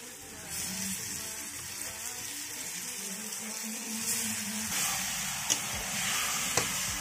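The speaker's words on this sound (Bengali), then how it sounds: "মাংসটাকে এইভাবে আমি কষে নেবো।" Chicken fries with spices in a pan with a continuous sizzling hiss, occasionally broken by soft stirring and a couple of faint clinks.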